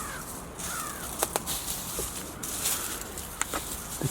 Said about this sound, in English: The crows calling out